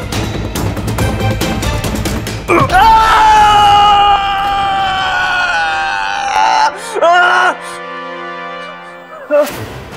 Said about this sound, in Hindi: ये तेरे पोते की चीख थी